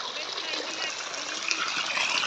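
Warm water gushing from a motor pump at a village well in Pakistan, a steady close rushing splash that swells slightly toward the end.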